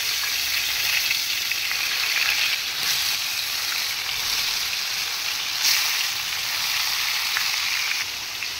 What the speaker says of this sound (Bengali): লতি রান্না করার জন্য চিংড়ি মাছটাকে ভাইজা নিতেছি,